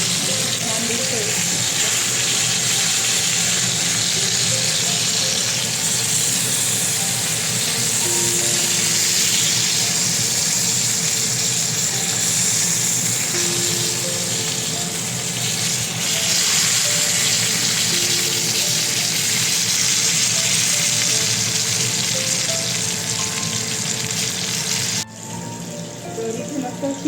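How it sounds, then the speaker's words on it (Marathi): A large fish fries on a big tawa with a loud, steady, hissing sizzle that carries on without a break, dropping briefly near the end. A voice talks faintly beneath it. "तर इथे मस्त फिश पण फ्राय होते बघू शकता."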